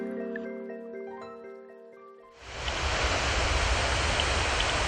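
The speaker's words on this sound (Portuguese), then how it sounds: "começamos a ouvir o barulho da cachoeira" A waterfall on the São Francisco river roars in as a sudden, loud, steady broadband rush after a quieter stretch of faint tonal sounds, filling the rest of the clip without any talk.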